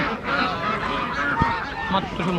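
Ducks at a village poultry market honk and quack in a busy overlapping chorus close by, while people talk in the background.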